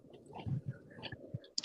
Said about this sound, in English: It was until you started munching.